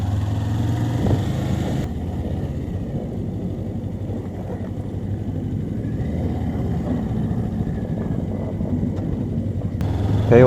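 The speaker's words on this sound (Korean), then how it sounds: "이제 오토바이를 실어 봅시다." A motorcycle engine rumbles steadily at low revs nearby as it is loaded onto a ferry, a continuous drone that shifts slightly in tone partway through.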